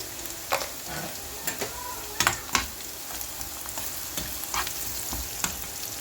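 Onions browning with spices such as ground coriander, turmeric and salt in a pan, a constant soft sizzle broken by scattered clicks and scrapes of stirring, close and unaccompanied by talk.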